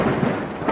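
Thunder from lightning rumbles as a brief, dense, steady roar with a hiss like rain, loud and close, with no other sounds.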